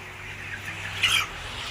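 Chickens on a poultry farm give soft, faint clucks and a brief rise of bird calls over a low background hum.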